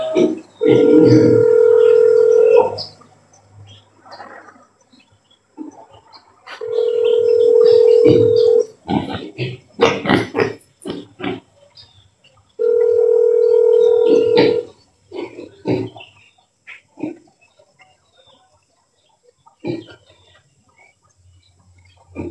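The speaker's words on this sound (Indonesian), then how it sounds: "Saya mau telepon Mbak Aziza" Repeated telephone ringback tone while a call is placed: three long, steady tone bursts of about two seconds each, separated by pauses with faint clicks and background noise, and no talk.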